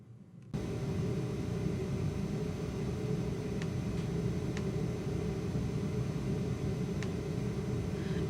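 Basement furnace running, a steady low rumbling roar with broadband hiss that switches on abruptly near the start and continues evenly, with a few faint ticks on top.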